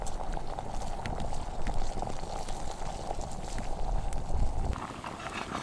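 Acorns boil in a pot of water over an outdoor fire, giving a continuous, fairly quiet bubbling and rumbling with crackly texture and no talking.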